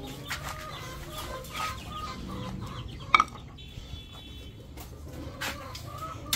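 Farm chickens and chicks cluck softly and intermittently at close range, with scattered short clucks and a brief high peeping call partway through over quiet background noise.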